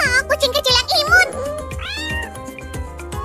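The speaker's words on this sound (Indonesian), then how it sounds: "Oh, kucing kecil yang imut." A newborn kitten meows repeatedly in high, wavering cries, close and clear, with low rhythmic thumps underneath and no talking.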